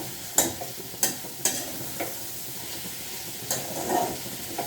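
Small bitter gourds frying in a pan give a low hiss, with a few sharp scraping stirs of a spatula near the start and softer ones later.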